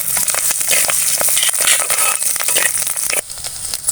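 Curry leaves crackle and sizzle loudly in hot oil with chana dal and urad dal, a dense continuous spitting and popping close by with stirring scrapes, no voices.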